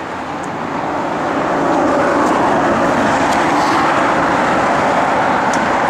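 A 1968 Chevrolet Camaro SS driving on the road, a loud, steady roar of engine and tire noise that builds over the first seconds and then holds constant, with no voices.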